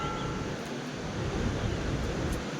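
Below snow-capped mountains, the Alaknanda river gives off a dense, steady rushing roar at a constant level, with no voices and no break.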